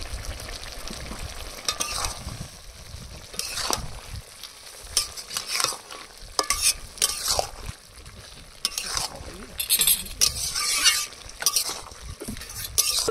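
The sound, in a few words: curry simmering with cumin paste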